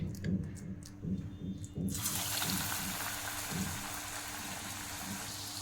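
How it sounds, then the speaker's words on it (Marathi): Corn vada dropped into hot oil and frying, a loud steady sizzle bursting in about two seconds in and continuing, preceded by a low rhythmic thumping background. "इकडे तेल पण गरम झालेलं आहे आता आपण एक एक वडा सोडून घेऊया"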